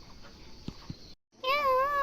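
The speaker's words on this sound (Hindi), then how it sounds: "बिल्ली देखो वहाँ कैसे बैठी हुई है।" A cat gives a single clear, drawn-out meow close by, after a quiet stretch with a couple of faint knocks.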